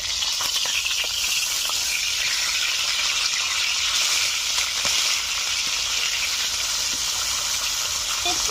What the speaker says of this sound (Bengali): মিডিয়াম আছে আস্তে আস্তে মাছগুলোকে ভেজে নেব